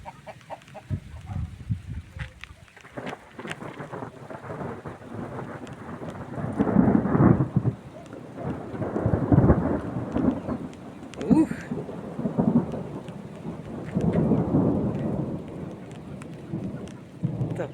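Rain pours steadily in a thunderstorm while deep rolls of thunder rumble repeatedly, swelling and fading over the downpour; a person speaks briefly and softly at the start.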